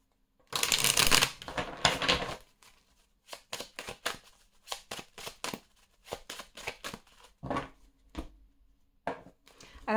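Oracle cards are shuffled up close: a dense riffling burst at the start, then a quick run of crisp card slaps and flicks in an uneven rhythm.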